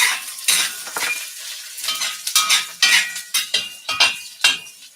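Minced shallots sizzle in a pan alongside a crushed dried cayenne pepper, with bright frying hiss broken by repeated scraping stirs, close and fairly loud.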